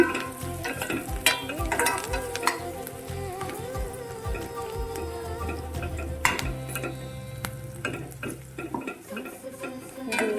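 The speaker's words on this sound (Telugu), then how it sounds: "ఎండుమిర్చి నేను ఇలా వేస్తాను" Dried red chillies fry in hot oil with busy crackling and sizzling, broken by clattering stirring and scraping, and a low rumble from the stove underneath.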